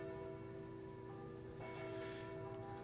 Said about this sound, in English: The church bells have been ringing all morning.